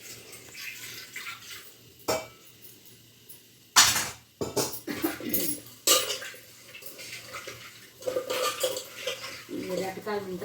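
Fish pieces fry in a pan in an Andhra home kitchen while a utensil scrapes and clanks against the metal in irregular strokes, over a soft background sizzle, close and moderately loud with pauses between stirs.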